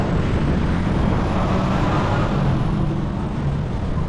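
Traffic on a street in New Braunfels, Texas, with vehicles revving their engines, a steady heavy low rumble of motors that sounds nearby and continuous, with no voices over it.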